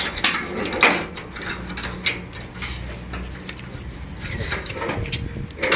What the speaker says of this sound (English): Douglas, can you please lift up the mold?